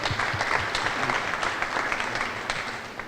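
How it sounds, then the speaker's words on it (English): Audience at an anti-violence symposium at Parkway Academy applauds steadily for the vice president Marcello Bradshaw, a dense, sustained wash of clapping filling the hall, with a few voices mixed faintly underneath. "Let's clap it up for Marcello for me."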